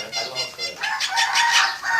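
A rooster at a rooster contest gives a run of loud, close clucking calls in quick rhythmic bursts, with a faint murmur of background voices.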